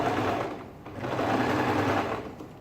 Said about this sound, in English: I'm still sewing properly at 1/2 inch